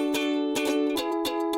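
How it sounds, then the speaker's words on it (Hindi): A guitar plays repeated plucked notes, evenly spaced and close, ringing alone with no voices over it. "ये गिटार की आवाज है।"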